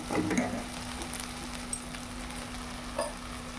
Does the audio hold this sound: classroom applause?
no